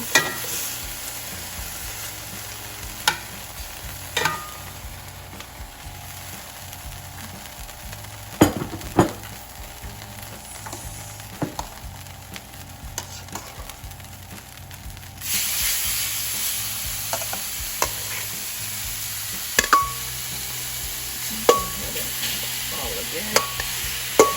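Beef bites sizzling in a frying pan during home meal prep, a steady hiss with intermittent clicks and scrapes of stirring, no talking.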